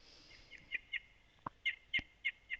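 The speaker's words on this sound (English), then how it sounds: "it's a bird" Short chirping bird calls inside the horror game Skinwalker, a run of about seven quick, separate chirps spaced irregularly with a couple of sharper clicks, fairly faint over a quiet outdoor ambience.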